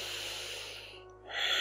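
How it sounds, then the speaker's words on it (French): A person doing seated chair yoga draws in a deep breath through the nose, a soft airy inhale that grows louder at the end, close and quiet. "Encore une respiration profonde"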